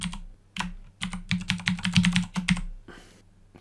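Someone types on a computer keyboard, a quick run of close, crisp key clicks that pauses briefly and then resumes, with no talk.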